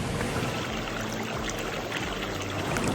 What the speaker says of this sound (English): I'm gonna come down to the river to fill some up.